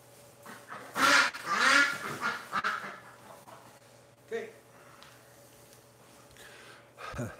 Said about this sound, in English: Hang on, little duck.